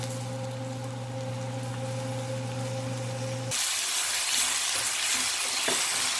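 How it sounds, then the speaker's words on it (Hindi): Tomatoes tipped into softened onions frying in oil for bhindi masala, with a sudden burst of loud, bright sizzling that replaces a quieter hum partway through and then keeps hissing steadily, with faint stirring scrapes. "अब ये अनियन हमारे थोड़े से लूज हो गए तो इसमें हम टमाटर डाल देंगे"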